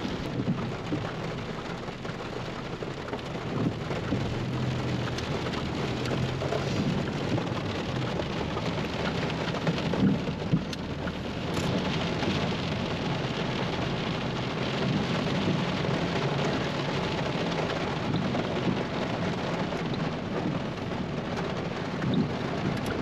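Steady rain pours down outdoors in Mineral Wells, Texas, a constant dense hiss of drops with low rumbling underneath, loud and unbroken throughout with no talking.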